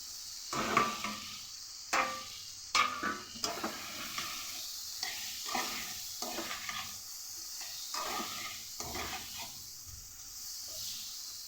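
Fried fish roe goes into a spice paste frying in oil, giving continuous close sizzling with repeated stirring scrapes and clatters from the pan.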